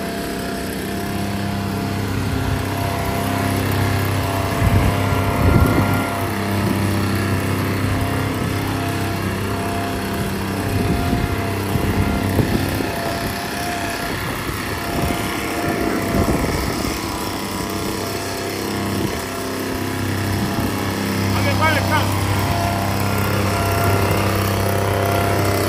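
Leaf blower clearing debris from artificial turf outdoors, a steady loud engine drone with throttle surges running throughout, no talk over it.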